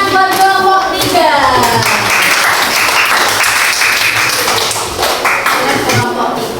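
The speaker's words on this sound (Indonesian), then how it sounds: "Tepuk tangan buat kelompok 3." A classroom of students claps for a group that has just presented, a lively burst of hand claps with sharp taps mixed in, fairly close and loud, thinning gradually over several seconds.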